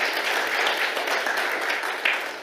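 An audience applauds continuously at a signing ceremony for a co-investment partnership in Kenya, with dense, even clapping from a crowd that holds steady and swells slightly near the end.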